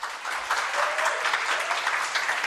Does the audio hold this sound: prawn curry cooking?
no